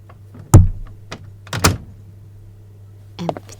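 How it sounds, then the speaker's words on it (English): Knocking on a door, with a heavy low thump followed by a second cluster of raps a second later, then a fainter tap near the end, close and fairly loud against a steady low hum. "So I'm going to knock on the door."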